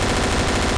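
An FN P90 submachine gun fires in Garry's Mod, a loud, continuous rapid stream of close shots filling the whole moment without a break.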